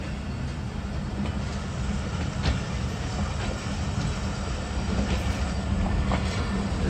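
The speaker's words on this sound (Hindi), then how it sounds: "चलें जी, फाइनली हमारी ट्रेन में मूव होना शुरू" The Shah Hussain Express, a Pakistani passenger train, begins to move, giving a close, continuous low rumble of rolling coaches with faint rail clicks and squeals throughout.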